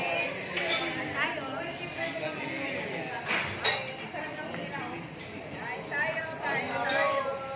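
Glasses clink together in a toast during a meal at a mall eatery, with several bright chinks over dish and cutlery clatter while people chat nearby.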